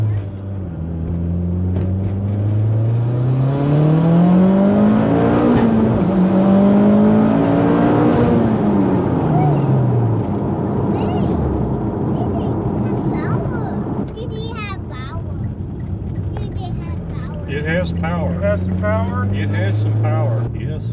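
Mitsubishi Lancer Evolution X engine revving and accelerating from inside the cabin, a loud sustained rising and falling drone through several gear pulls, with people talking faintly over it near the end.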